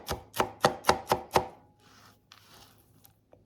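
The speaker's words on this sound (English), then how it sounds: "So keep going until you don't see any more big chunks of almonds here. As much as possible, try to evenly chop it." Almonds are chopped with a knife on a board in six sharp, evenly spaced close chops. A soft rustle of the pieces being gathered follows, then a couple of faint taps.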